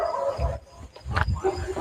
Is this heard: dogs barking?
yes